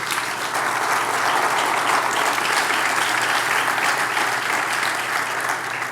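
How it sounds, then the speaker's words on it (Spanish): A church congregation applauds steadily for six seconds, dense, even clapping that holds a constant level from start to finish. "Démosle un aplauso"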